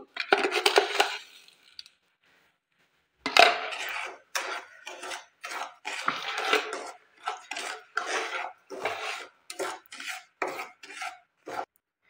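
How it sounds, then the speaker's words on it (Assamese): Semolina fried with sugar is stirred in a pan, making close, rhythmic scraping strokes that repeat steadily after a short pause, with no talking. "চুজিখিনি মই ভালদৰে ভাজি ল'লোঁ।"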